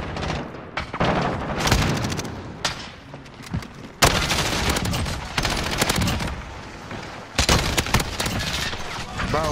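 Dense bursts of assault rifle fire in a Modern Warfare multiplayer match, loud and close, with rapid automatic volleys, explosions and short pauses between the strings of shots.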